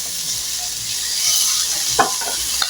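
Tomatoes and mixed ingredients for bitter melon cooking in a pan, a steady close sizzle with a couple of sharp stir scrapes near the end.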